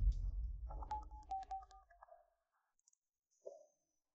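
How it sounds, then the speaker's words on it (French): A telephone being dialed to call a teacher, a rapid series of short tonal key beeps over a low rumble, then silence and a single brief tone. "Appelle vite le professeur Zhao, je veux l'accuser."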